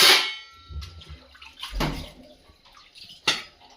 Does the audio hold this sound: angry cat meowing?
no